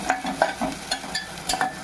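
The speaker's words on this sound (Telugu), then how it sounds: "నేను హాఫ్ కేజీయే కదా మటను, అందుకని అవి కొంచెం ఫ్రై కావాలి" Onion pieces fry alongside mutton in a pan, short bursts of quick metallic scraping and stirring over a low sizzle, several strokes in quick succession, close and moderately loud without speech.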